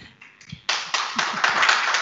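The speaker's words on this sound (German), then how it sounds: "Der Applaus gehört Ihnen." Applause from an audience at a business forum starts with a few scattered claps, then swells into dense, steady clapping that carries on to the end.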